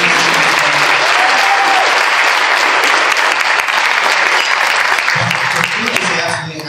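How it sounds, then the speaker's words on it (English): Sustained audience applause from a crowd at the Overtime Grill during a Waterford Township State of the Township event, a dense, steady wash of clapping that fades slightly near the end. "how about a round of applause for Boomer?"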